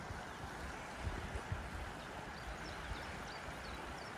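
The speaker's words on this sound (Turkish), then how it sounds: "derenin sesi var" A flowing stream beside a campsite gives a steady, soft rushing and babbling of water, low and continuous with no voices.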